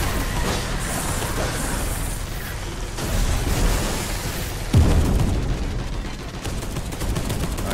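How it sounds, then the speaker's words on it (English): An explosion in the video game Space Hulk Deathwing, a loud booming blast partway through over a constant roar of gunfire and rumbling battle noise. "Heard an explosion."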